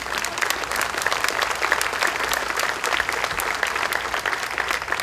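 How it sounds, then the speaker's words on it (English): A round of applause rings out from the guests and visiting dignitaries at an inauguration ceremony for Calvo and Tenorio, steady dense clapping filling the room at an even level throughout. "applause."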